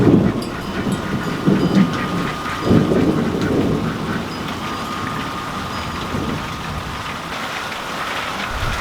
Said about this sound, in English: now the wind is blowing this way and I'm getting rained on